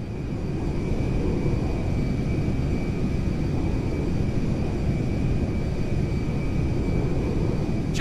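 Cargo jet landing at Mackenzie Field in GTA V, a steady loud engine roar and low rumble with a thin high whine running throughout, without break.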